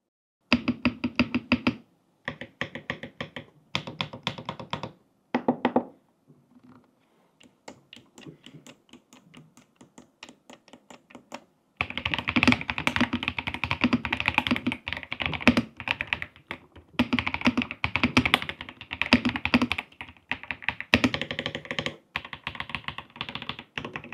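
Mechanical keyboard switches on a Royal Kludge keyboard clacking in bursts of rapid typing, sparse with pauses at first, then dense and continuous, close and crisp.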